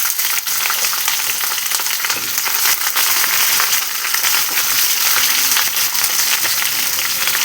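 Green chillies and curry leaves frying in hot oil, a loud, continuous crackling sizzle close by with occasional sharp pops, no voices.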